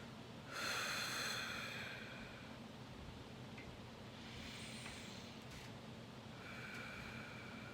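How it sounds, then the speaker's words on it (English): A slow guided breathing exercise: one long, strong exhale near the start, followed by quieter drawn breaths, heard up close with no talking. "We're gonna do our breathing technique first."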